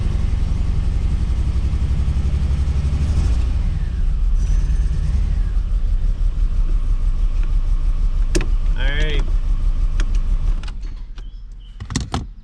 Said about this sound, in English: It starts, it runs, I have oil pressure.